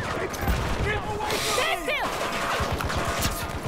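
Battlefield 2042 match audio with rapid overlapping gunfire and sniper shots under continuous background talk, the firing loud and steady across the whole stretch.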